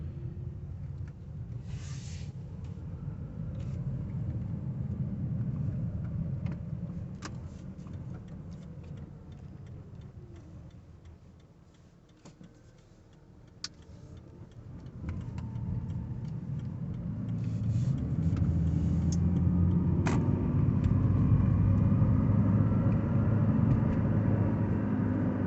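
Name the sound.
Toyota Prius hybrid driving on battery, engine off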